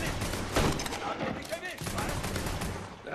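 Shots ring out in the Mafia 3 video game, a rapid volley of gunfire with sharp pops and ricochet-like whines under a talking voice, fairly close and steady throughout.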